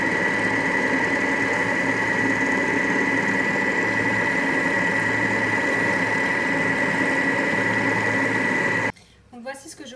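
Thermomix running at speed 4 as it blends almond shortbread dough, a steady loud motor whir with a faint grinding texture that holds for about nine seconds, then cuts out into quiet.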